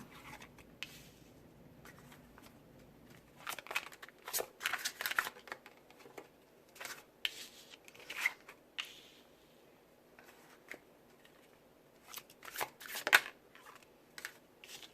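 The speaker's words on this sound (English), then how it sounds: "Let's see what the tarot has to say." Tarot cards being shuffled by hand in a quiet room, with soft papery riffles and slides arriving in irregular bursts, a few sharper snaps standing out.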